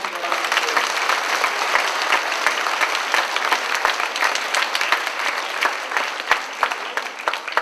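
Loud, sustained applause from a gathered crowd at a conference, many hands clapping densely and steadily for several seconds, with a few sharper individual claps standing out.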